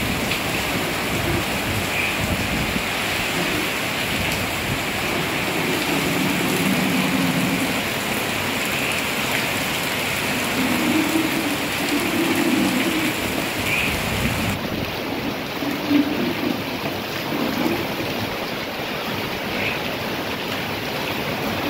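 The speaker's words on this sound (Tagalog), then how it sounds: "Lumalakas na yung ulan, no? Tapos may kasamang hangin." Heavy rain lashing down with gusting wind as Super Typhoon Mawar approaches, a loud, constant roaring hiss with swelling gusts that continues throughout without speech.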